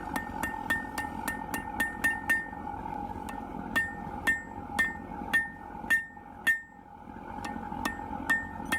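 Hammer striking hot metal on an anvil while forging a leaf's stem into a small round section, a steady run of sharp ringing clinks with short pauses, close and loud over a low steady forge hum.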